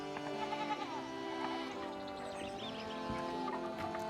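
Sheep bleat in the Pentiment video game, several wavering calls over a layered background of farmyard ambience and soft music, at moderate loudness.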